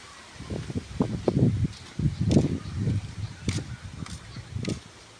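Gusting wind sets leaves rustling in soft, uneven swells, fairly close, with no voices.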